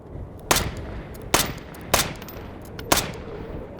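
Four sharp rifle shots in the video game H3VR, spaced unevenly with short decaying tails between them and no voices.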